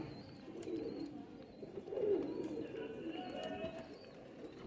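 Soft, low cooing of Lakha pigeons, repeated murmurs close by over a quiet background, with faint bird chirps.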